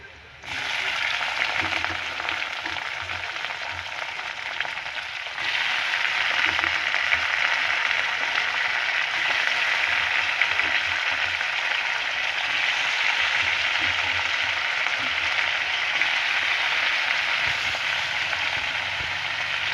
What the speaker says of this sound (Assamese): এতিয়া দিম মই মাংসখিনি।